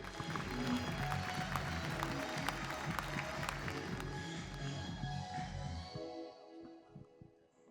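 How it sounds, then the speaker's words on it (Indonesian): Studio audience on an Indonesian talk show gives lively applause for an arriving guest: thick crowd clapping, loud and sustained for several seconds before thinning out and fading near the end. "Boleh kita kasih tepuk tangannya dulu yang meriah teman-teman."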